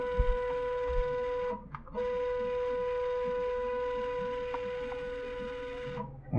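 A Titan 1 3D printer drives its build plate along the Z axis, a steady tonal stepper-motor whine with a brief pause partway through before it resumes, close and clear with no talking.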